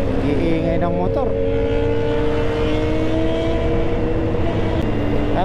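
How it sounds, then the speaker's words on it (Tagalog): Motorcycle engines on a road in Marikina during a long group ride: a continuous, close, loud drone with rising and falling revs throughout, with no clear pauses. "Iingay ng motor."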